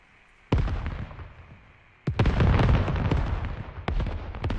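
Heavy weapons firing in a military squad video game: sharp loud blasts followed by a sustained roaring barrage of gunfire and explosions, with further distinct booms punctuating it.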